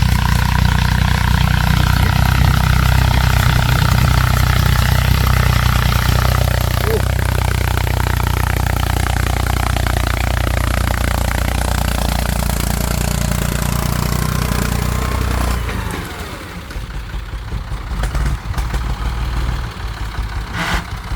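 A towing-only tractor with no blade or plough runs loud and close, a heavy low, steady engine drone that drops to a rougher, quieter idle near the end.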